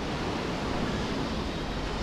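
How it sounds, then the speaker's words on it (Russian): Sea waves during a small storm on a beach at Lazarevskoye wash in as a steady, dense roar of surf, with no breaks and no talk over it for about two seconds. "Сейчас мы любуемся пляжами в Лазаревском во время шторма небольшого."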